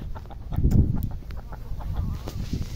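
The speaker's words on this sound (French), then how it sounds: "Il y a toutes les poules." Chickens cluck softly and steadily in a farmyard, with a low rustling background and occasional sharper bird calls.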